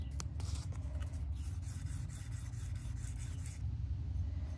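Fine-grit sandpaper rubs along a ski edge in soft, repeated scraping strokes, close and fairly quiet, with no voices.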